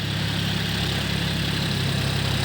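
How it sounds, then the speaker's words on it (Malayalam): Tractor ploughing a paddy field at Vachappuram, its engine a steady, loud low drone with a constant rumble and no pauses or voices. "വാച്ചാപ്പുറം വയലിൽ ട്രാക്ടർ അടിക്കുന്ന ദൃശ്യമാണ് ഇതിൽ കാണുന്നത്"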